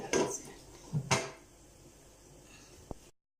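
Lid set on a pot of boiling water while cooking jackfruit payasam: a sharp metallic clank, then two more clattering hits about a second later and a small tap near the end, with quiet kitchen background between them.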